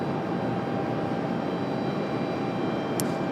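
An aircraft landing at Raleigh-Durham airport: a steady, broadband engine roar holds at an even level throughout, fairly distant and without voices.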